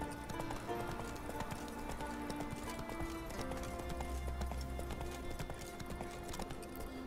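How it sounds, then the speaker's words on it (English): A horse's hooves clip-clop at a steady walking rhythm in The Witcher 3, close and fairly loud, with game music tones and ambience layered underneath and an occasional snort. "Roach keep sounding like he's walking over water?"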